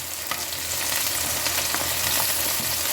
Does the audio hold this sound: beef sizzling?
yes